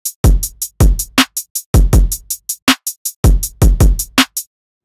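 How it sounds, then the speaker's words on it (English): Drum loop with a hi-hat pattern layered in: loud kicks and snares in a repeating bar, bright ticking hi-hats filling the gaps between them, crisp and close with no speech. "so now we add in the hi-hat"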